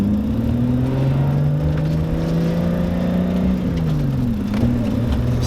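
A BMW E30 fitted with a 2JZ engine and an E36 M3 ZF gearbox drones steadily from inside the car on a cruise, its pitch dipping and recovering near the end, with no talk.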